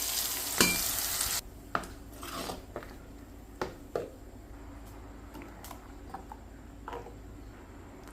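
Fenugreek seeds, ginger and green chilli fry in hot oil for a mackerel curry: a loud sizzle bursts first, then settles into a quieter crackle with scattered spoon scrapes and taps against the pan.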